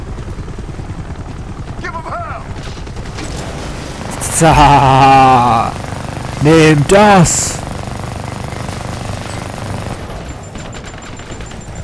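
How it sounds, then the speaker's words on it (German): A helicopter drones steadily with a minigun in the video game Army of Two: The Devil's Cartel, rapid fire mixed into the engine noise, while someone speaks and shouts excitedly over it. "Yeah, Minigun Action!"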